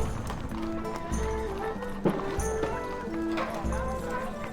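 Horses gallop in the medieval strategy game Stronghold Legends, their hoofbeats thudding under a French-speaking voice and game music.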